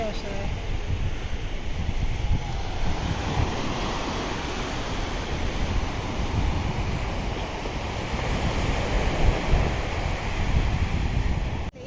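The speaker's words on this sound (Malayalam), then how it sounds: "അവിടെ നിന്ന് ഒഴുകി ഇങ്ങനെ വന്ന് ഇത് കടലിലേക്ക് പോകുന്നതാണ് ഈ കാണുന്നത്" River water rushing into the sea at Kozhikode roars continuously, a broad, loud wash like surf or a strong current, with wind buffeting the microphone.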